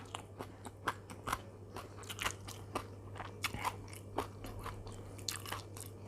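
Crisp bites into fresh, crunchy djenkol beans (luk nieng), a quick string of close, sharp crunches and crackles with brief chewing between them, against a steady low hum and no talking.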